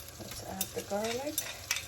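Minced garlic fries in melted butter in a cast iron pan, a soft low sizzle broken by quick stirring scrapes and a short tonal squeak, faint and close.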